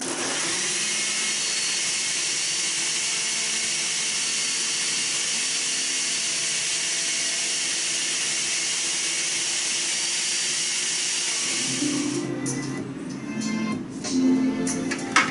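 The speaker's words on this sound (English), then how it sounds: "I'm going to put my setting on my blender on puree and just, see what happens" A blender runs on its puree setting blending plantains, a loud steady whirring drone that holds evenly and then turns rougher and uneven near the end as it winds down.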